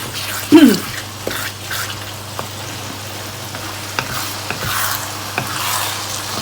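Rhubarb stalks and pork chili paste stir-fry in a pan, giving a steady soft sizzle broken by repeated spatula scrapes and one louder clank near the start.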